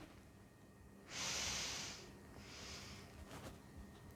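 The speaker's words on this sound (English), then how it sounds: "So we want to take that nice big inhale in" One deep inhale drawn through the nose, close and breathy, lasting about a second. A softer breath follows, with quiet room tone around it.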